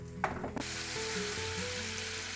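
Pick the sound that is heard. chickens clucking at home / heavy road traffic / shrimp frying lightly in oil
shrimp frying lightly in oil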